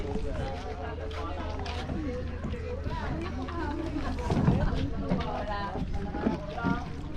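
Motorized boat ride toward Hundred Islands, a continuous engine drone with water and wind rushing against the hull, while several people talk and call out over it throughout.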